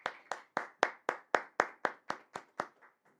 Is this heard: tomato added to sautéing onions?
no